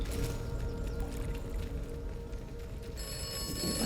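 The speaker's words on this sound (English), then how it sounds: "Telephone was ringing" A telephone rings in the video game Atomfall with a steady electronic trill over low background noise, no voices.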